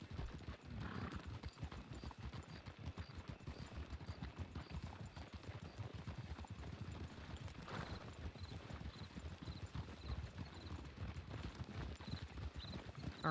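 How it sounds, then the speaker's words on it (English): Horses trotting in a Wild West roleplay video game, a continuous fast clip-clop of hooves on the ground with rapid steady rhythm, moderately close and fairly quiet, no talk over it. "There's a horse darting around over here."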